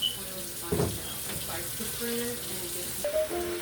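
Chicken feet for Jamaican coconut chicken foot soup are rinsed under a running kitchen tap: a steady splashing stream of water with occasional clinks and shifts as the feet are handled, close and continuous.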